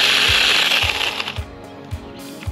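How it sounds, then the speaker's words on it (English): Handheld chainsaw cutting through bushes, a steady high motor whine with a regular low thumping beat roughly every half second, close and loud, the pitch shifting as it bites into the growth. "This is a chainsaw, in case you were wondering. Works great on stuff like this."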